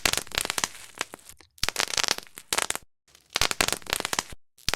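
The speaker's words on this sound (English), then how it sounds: "This is the sound of a tomato plant that hasn't gotten enough water." Sharp, dense bursts of crackling clicks from a dehydrated tomato plant, recorded in a wooden soundproof box with microphones at the stems, coming in clustered bursts separated by brief silent gaps.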